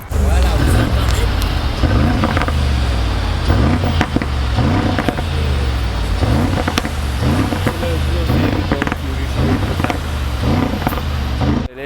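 A Mercedes G63 AMG engine rumbles deep and loud throughout, with a regular pulsing throb, while someone talks continuously over it.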